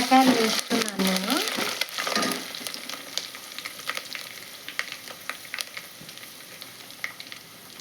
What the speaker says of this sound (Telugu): బెండకాయలు వేస్తున్నాను నేను